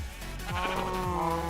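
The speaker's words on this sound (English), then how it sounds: "we have a whole bunch of different sheep that we can actually collect all their wool" Blocky Minecraft sheep bleat in a barn area beside pigs and cows, a couple of wavering low bleats rising and falling over a steady farm ambience, close and moderately loud.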